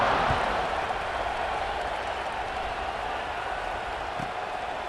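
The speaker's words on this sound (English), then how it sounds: "this crowd now ready to get behind them" A stadium crowd in a Madden football video game roars in a broad, continuous wash before the kickoff, steady and distant throughout with no clear individual voices.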